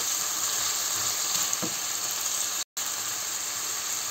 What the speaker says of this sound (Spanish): Lo primero que hacemos es sofreír el ajo en un poquito de aceite durante 2 minutos